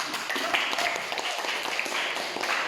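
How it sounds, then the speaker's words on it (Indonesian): A group applauds after a classroom presentation during a biology teacher performance assessment, producing a steady, dense patter of many hands that holds at even strength throughout with no pauses. "sekali lagi beri tepuk tangan."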